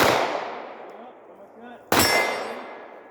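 Two sharp handgun shots are fired at a target at close distance, each a loud crack with a metallic ring decaying over a second or more, the pair spaced about two seconds apart.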